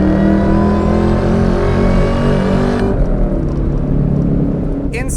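A 2003 Ford SVT Cobra with 12K miles roars loudly under hard acceleration, its engine note climbing steadily, then dropping into a gear change and pulling again.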